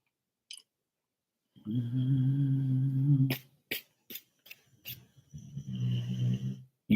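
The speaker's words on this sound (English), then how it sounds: "You hear this damn dog snoring?" A dog snores loudly and close by in a low rumbling drone for over a second, then a few sharp clicks follow and a second snore trails off, with no one speaking.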